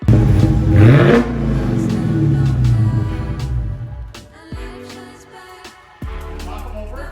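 A car engine revs loudly up close at the exhaust, where Coke and Pepsi soda cans stand, with a strong surge at the start before settling into a steady, throaty rumble that dips and returns.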